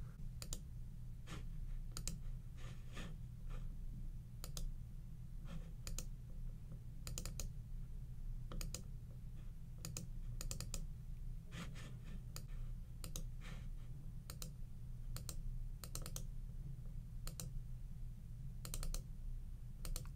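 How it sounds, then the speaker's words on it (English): Quiet computer mouse clicks, many falling in quick double-click pairs, scattered irregularly over a low steady background hum, with no speech. "So I'm double clicking it so it shows down here."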